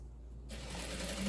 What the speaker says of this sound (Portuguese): E aqui eu vou passar a costura de fora a fora.